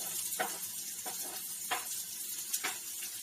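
Onions sizzling steadily in hot chili oil in which chilies are already frying, with a continuous broadband hiss and several short scraping stir strokes, close and moderately loud, no talking.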